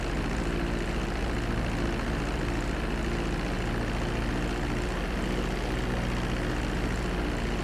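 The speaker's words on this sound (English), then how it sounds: "Start reducing the plane's altitude gradually so you're just above the runway as you approach." An airplane comes in to land on a runway in the video game GTA 5, heard as a steady, even engine drone with broad rushing noise and no talk.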